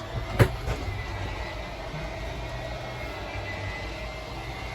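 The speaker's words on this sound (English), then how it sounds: "you're just going to hear the motors whine a little bit" A 2022 Heartland Pioneer 171 SS travel trailer's slide-out motor gives a steady mechanical whine with low rumbling hum, running continuously at moderate level, with a brief sharp click near the start.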